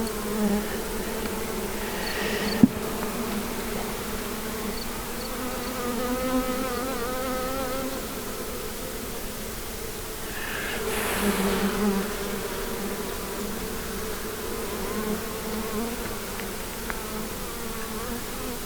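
Honey bees buzz steadily inside an opened nuc hive during an inspection, a dense close hum with wavering tones that swells briefly midway, with a sharp knock early on.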